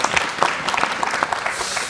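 A seated audience at a school discussion forum claps together in a dense, even burst of applause that fills the whole moment with no talking over it.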